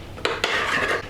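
A spoon scrapes and clinks against a bowl while stirring mint sauce into natural yogurt, two short taps followed by a brief rasping swirl, close and clear.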